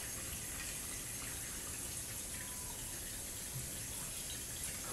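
Tap water runs in a steady, even stream while a cutting board is rinsed at a kitchen sink, a continuous close wash with no breaks.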